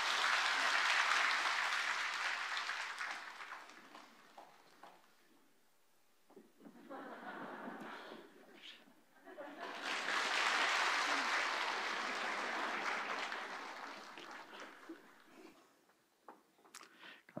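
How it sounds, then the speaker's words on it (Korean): A church congregation at a Sunday service claps to bless a child. Two separate swells of warm, full applause are heard, with a quieter stretch of talking between them and a fading tail at the end. "우리 박수로 이 아이를 축복합니다."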